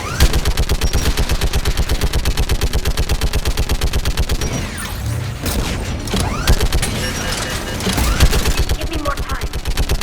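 A Geth turret in Mass Effect 3 fires in a rapid, relentless stream of loud mechanical shots, a steady machine-gun rhythm broken briefly by a heavier boom midway before the hammering resumes.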